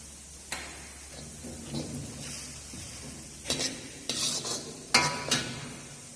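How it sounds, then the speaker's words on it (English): A spoon stirs and scrapes through sauce in a pan with soft sizzling underneath, giving intermittent clinks and sharp metallic knocks that grow louder toward the end, with no voices. "We will mix it properly."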